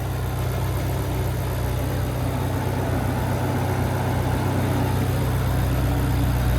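A 2020 Ferrari Portofino's 3.9-liter twin-turbocharged V8 idles with a steady low rumble and constant hum, close by, with no voices.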